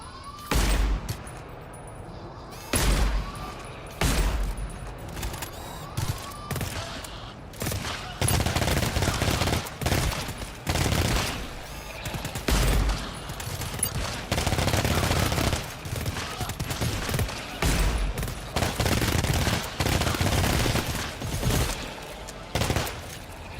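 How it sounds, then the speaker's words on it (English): An automatic turret in the video game GTFO fires in repeated sustained bursts, loud rattling volleys separated by short pauses, running steadily throughout with faint game ambience between. "I'll just work with this turret until it runs out of ammo."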